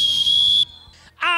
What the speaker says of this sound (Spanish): ¿Te anima a tocar el silbato para que entren a la cancha?